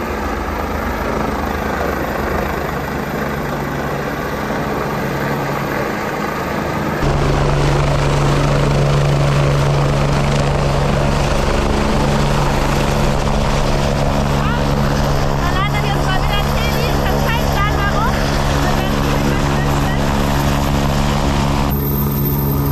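A helicopter on a high-mountain heli-skiing mission in Austria drones steadily with a loud rotor and engine roar that intensifies partway through, constant throughout, with voices faintly mixed in.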